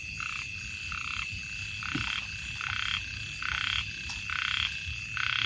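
Frogs croak at night in a rice field during frog hunting, a loud, regular pulsing chorus of rhythmic calls repeating about every second over a steady hiss of insects and night ambience.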